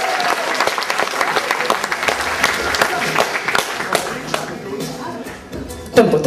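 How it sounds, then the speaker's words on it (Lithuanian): An audience bursts into enthusiastic applause to welcome a young woman named Agne, with loud, sharp clapping that gradually thins and fades, ending with a thump near the end. "audringais aplodismentais pasitinkam Agne"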